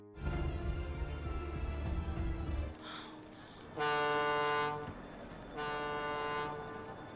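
A ship's horn sounds in a film scene, two long loud blasts after a stretch of low rumbling, the second slightly fainter and shorter.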